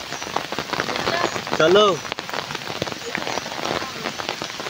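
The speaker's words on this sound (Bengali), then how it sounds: "দেখতে পাচ্ছ বৃষ্টি পড়ছে" Steady rain patters densely on an umbrella and the ground outdoors during a storm while mangoes are gathered, loud and close, with one brief spoken word partway through.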